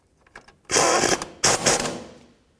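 A socket ratchet with a 13mm socket clicks rapidly in two bursts, close up, while tightening the brake hose bracket bolt on a 1997-2004 Dodge Dakota front suspension.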